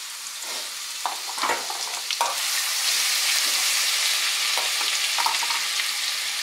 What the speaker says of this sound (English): first of all, I'm gonna put some cumin seed. So cumin seed is here already, and then I'll put some ginger